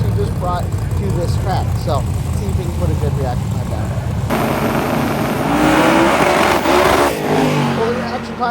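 A drag racing car launches down the strip at a drag racing event, its engine surging into a loud, broad roar midway through, while a person keeps talking over the engine noise throughout.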